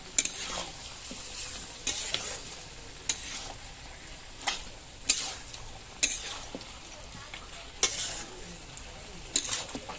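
Chicken slowly sautés in a pot for biryani, with a constant soft sizzle broken by regular scraping and stirring clinks every second or so, close by.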